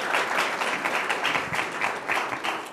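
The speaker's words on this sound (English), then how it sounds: "You can applaud if you choose to." Audience applause at a public debate on marijuana, a dense, steady wash of many hands clapping that holds at an even level from start to finish, with no voices over it.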